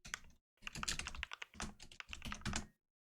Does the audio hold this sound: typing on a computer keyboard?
yes